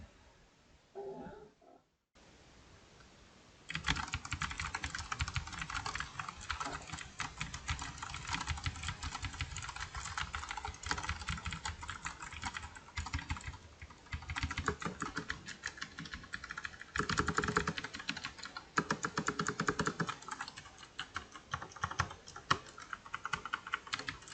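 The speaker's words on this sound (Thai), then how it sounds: "ดูในส่วนของ เสียงของการพิมพ์แล้วกัน อาจจะผมจะให้ท่านผู้ชมได้ฟังเสียงนะครับ" Someone types on a Royal Kludge RK S108 RGB mechanical keyboard, producing a dense, steady run of close, clacky keystrokes after a brief quiet start, with no talking.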